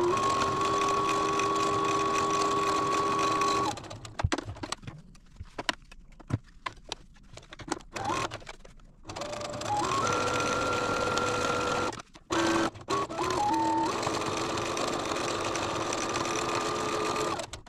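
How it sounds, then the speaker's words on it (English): Steady whirring stitches of a sewing machine sewing quilt blocks in long bursts, pausing briefly in the middle with small clicks and handling noises before resuming. "I'm going to take this over to the sewing machine and sew both sides."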